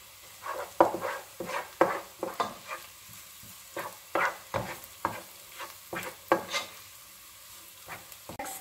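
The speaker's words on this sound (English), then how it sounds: "you're going to be putting in the Italian seasoning and the hot pepper flakes, and you're just going to mix that in" Italian seasoning and hot pepper flakes are stirred into a sizzling pan for penne alla vodka. A spoon scrapes in quick, irregular strokes, close and clear, over a soft background sizzle.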